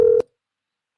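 A single short telephone tone while placing a call, loud and clean, lasting about a fifth of a second before cutting to silence.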